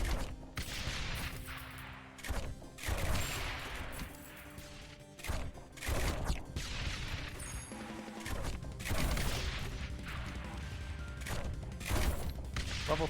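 Mortar towers firing repeatedly in the tower-defense game Rogue Tower, a dense run of booming impacts and crunchy blasts layered with other game effects, loud and continuous throughout.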